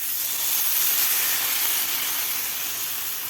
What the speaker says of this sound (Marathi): आता यावर आपल्याला हे रव्याचं मिश्रण घालायचं आहे.